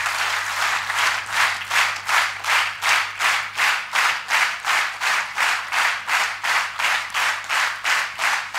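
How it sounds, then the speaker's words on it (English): An institute audience gives a congratulatory round of applause, steady claps in a rhythmic, pulsing wave that swells and fades regularly throughout, close and full with no talking. "huge applause"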